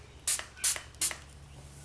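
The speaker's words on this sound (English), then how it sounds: "So I prefer to just spray the clay" A spray bottle mists polymer clay with three quick, crisp hissing bursts, evenly spaced and close, each lasting a fraction of a second over a quiet background.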